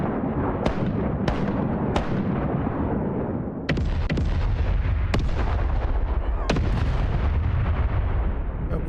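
Ship cannon volleys in a Mount & Blade and Sid Meier's Pirates game: sharp close booms arrive irregularly over a continuous heavy rumble that swells after the middle, loud throughout.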